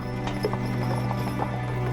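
Hooves of a horse-drawn carriage in Dhaka clip-clop over a steady low mechanical hum, a loose run of muted hoofbeats lasting under two seconds.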